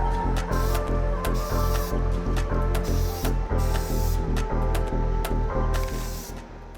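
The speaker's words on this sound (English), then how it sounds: "I like to just use standard automotive primers" A spray can of automotive primer is applied to a 1/25 scale model 1969 Camaro body in a rapid series of short, sharp hissing bursts that repeat at a steady rhythm, close and fairly loud.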